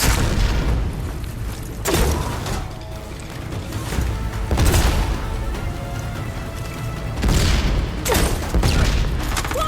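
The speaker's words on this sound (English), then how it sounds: "I love this cannon!" Heavy cannon fire in the video game Horizon Forbidden West, loud booming blasts repeating at intervals of about two to three seconds, each with a crashing impact and rumbling tail over dense battle noise.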